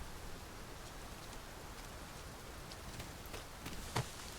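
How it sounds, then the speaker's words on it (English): A downpour in the video game Dragon's Dogma 2 hisses faintly and steadily, with one small tap standing out near the end. "This downpour seems unlikely to abate."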